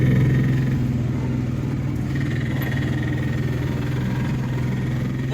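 A vehicle engine drones steadily while driving slowly through thick fog on a cold morning, a close, constant low hum with no voices.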